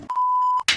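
A single sharp electronic timer beep rings out clearly aboard a sailboat, one sustained tone lasting about half a second, followed by a brief burst of noise.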